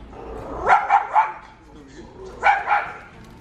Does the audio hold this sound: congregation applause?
no